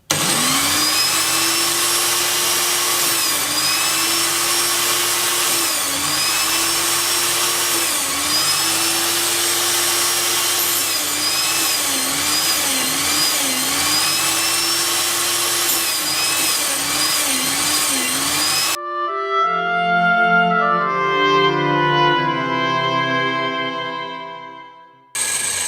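Makita circular saw blade sharpener grinding saw blade teeth: a loud, steady motor whine with repeated dips and rises as each tooth is ground, ending in a sudden change to a different tonal, clattering sound before stopping.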